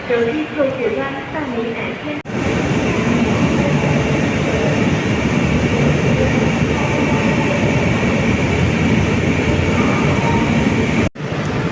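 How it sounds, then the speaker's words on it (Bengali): A loud, steady rumble of a train fills a large Guangzhou railway station, with a brief voice at the start and a crowded station hum throughout. "এটা হচ্ছে আমার ট্রেন"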